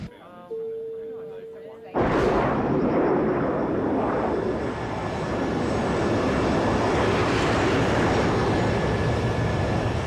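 An airliner cruises with a loud, steady broad roar of engines and cabin noise that starts abruptly after a short tone and a few moments of talk, then fills the rest of the scene.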